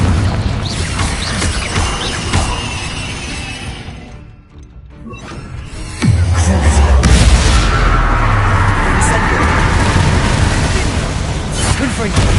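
A Confringo fire spell explodes in Hogwarts Legacy. Busy game sounds fade to a brief lull, then a heavy blast hits with a deep rumbling boom that carries on as loud crackling, fiery noise.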